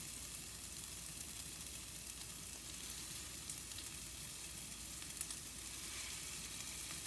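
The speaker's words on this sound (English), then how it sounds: "we are going to sear, or just brown, the outside of these meatballs" Meatballs browning in a hot pan, a steady, soft crackling sizzle with scattered faint pops, continuous and unbroken throughout with no voices.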